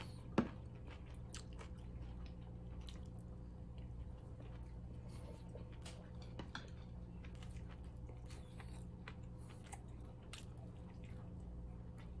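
Someone chewing a homemade sausage meal up close, with soft wet bites and squishy mastication going on steadily and quietly for several seconds, plus one sharper tap near the start.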